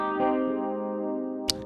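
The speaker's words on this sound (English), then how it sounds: "So this is one I kind of like to blend with the reverb." Electric guitar with a single-coil pickup played through a Richie Kotzen Fly Rig pedal blended with reverb, a sustained chord ringing out with a shimmering atmospheric tail, then a short bright pick attack near the end.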